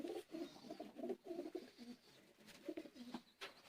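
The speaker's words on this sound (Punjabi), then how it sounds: "ਇਹ ਜੇ ਇਹਨਾਂ ਦਾ ਵੱਡੇ ਕੁੰਦੇ ਵਾਲਾ ਕਬੂਤਰ" Low, throaty cooing from a large-crested Teddy pigeon, a fancy breed offered for sale, coming in short repeated phrases close by, with no talk.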